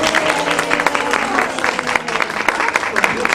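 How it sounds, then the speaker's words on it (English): A small group claps for Mitchell, a child being praised during an early communication session at home, a short burst of scattered, close-up clapping with a voice speaking over it. "everybody clap for Mitchell"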